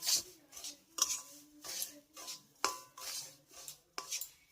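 Semolina fries in ghee in a pan while a utensil repeatedly scrapes and clinks against the metal in rhythmic strokes about once per second, close and quiet.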